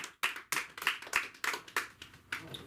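Audience at a comedy open mic clapping for a comedian, a sparse handful of claps rising and falling in several bursts close by, no talk over it.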